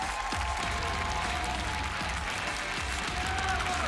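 A large crowd at an esports grand finals applauds steadily and densely, a continuous roar of clapping with cheering mixed in, heard from within the arena.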